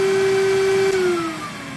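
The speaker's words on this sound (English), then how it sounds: "It's actually vacuuming." A VPI vacuum record cleaning machine sucks fluid off a spinning vinyl record, giving a loud steady whine and hum that holds close and then eases slightly in level.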